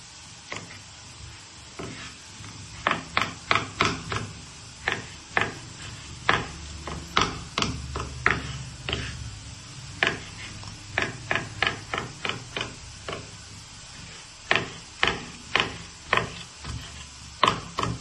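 Knife chopping tomatoes on a cutting board in a home kitchen, a steady series of close, crisp knocks in quick clusters with short pauses, no talking.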